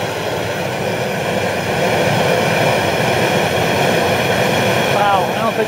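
A Bass Pro Shops propane burner for a beer or turkey fryer runs with a blue flame, giving a loud, steady roaring hiss that holds without a break.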